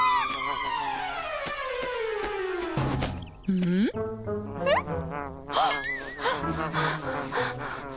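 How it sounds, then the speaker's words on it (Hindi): A cartoon bee buzzes close by, with gliding and wavering tones, among gasps and playful vocal sounds from animated characters. "अरे नहीं, एक मधुमक्खी।"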